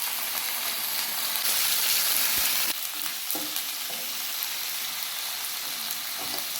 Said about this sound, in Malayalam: ഇനി നമുക്ക് പുരട്ടി വെച്ച് ചിക്കൻ അതിലേക്ക് ഇട്ട് കൊടുക്കാം.